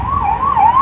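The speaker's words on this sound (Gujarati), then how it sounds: "એમ્બ્યુલન્સ આવી" An ambulance siren wails in a smooth rising and falling cycle, loud and close as it passes, with faint road noise underneath and no voices.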